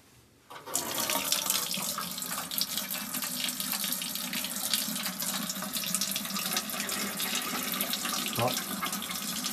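Tap water runs in a steady, close rush while a gas water heater is checked for leaks, starting abruptly after a brief quiet moment and continuing unbroken, with a faint clunk near the end.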